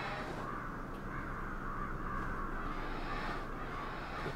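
Crows caw repeatedly in the video game Ghostwire: Tokyo, steady calls over a continuous ambient background with no talk.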